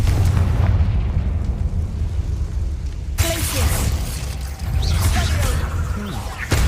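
In the video game Hogwarts Legacy, a Confringo spell blasts a barricade with a loud, close, rumbling explosion that fills the low end and carries on with crackling debris and a second burst of noisy impact.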